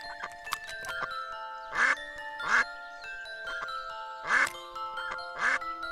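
Gédéon the cartoon duck gives a string of nasal quacks, several short honks in uneven bursts at close range, with bright tinkling tones ringing between them.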